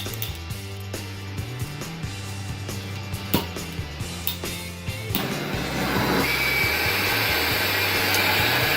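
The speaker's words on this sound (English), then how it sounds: "So I use my turbo torch with some MAP gas." A turbo torch burning MAP gas on a Mazda RX-7's rear link bushings: steady rumbling, hissing flame close by, rising to a louder, fuller roar partway through, mixed with a few knocks early on.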